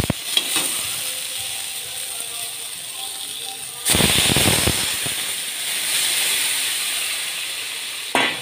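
Fish and potatoes fry in hot oil in a kadai, giving a steady close sizzle with sharper crackling spurts partway through, as if stirred or added to the pan.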